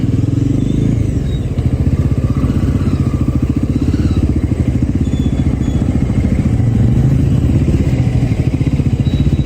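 Motorcycle ridden steadily at close range, its engine note loud and continuous with a rough, throbbing pulse and slight shifts in pitch as the throttle and gears change.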